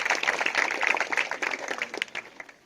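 Applause from an audience of children and adults at a career guidance and motivation show held by a local community society in a tribal area, a dense patter of many hands clapping that gradually thins and fades toward the end.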